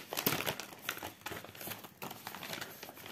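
A cross-stitch kit package is opened by hand, with crisp, close plastic packaging crinkling and rustling in quick irregular bursts, alone and fairly quiet.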